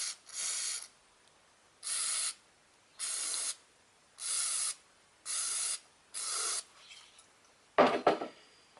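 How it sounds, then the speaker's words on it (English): Brake cleaner sprayed onto a car tie rod thread during a Toyota Corolla 2.0 D4D tie rod replacement, heard as six even aerosol bursts of hiss, each under a second, followed by a brief rustle of handling. "Then apply a bit of brake cleaner to degrease the surface."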